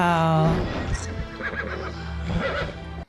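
A horse whinnies loudly up close, a rising then falling neigh over a low rumbling bed, followed by hoof movement and background commotion.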